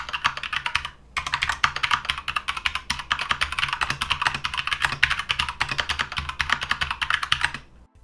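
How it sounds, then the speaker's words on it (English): Steady, brisk typing on a Keychron K2 mechanical keyboard with brown switches and an RGB aluminum frame, close and clear, dense clacking keystrokes running continuously after a brief pause near the start. "This model in particular is the RGB aluminum frame with the brown switches, and I certainly have a blast typing on it."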